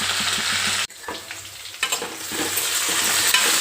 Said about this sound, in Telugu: దొండకాయలు బాగా వేగుతున్నాయి.